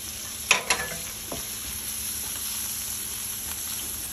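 A spoonful of flour frying in a pan for white sauce, a steady low sizzle with a couple of sharp stirring knocks near the start, close and fairly quiet.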